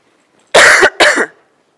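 Two sharp, loud coughs close together from a woman, close up, otherwise quiet around them.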